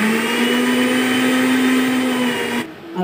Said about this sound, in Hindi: सरसों लहसुन और मिर्च ग्राइंड हो गई